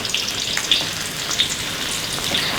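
Shallots fry in hot oil for an Indonesian chicken stew, a soft, steady sizzle with a few faint crackles and pops, heard alone.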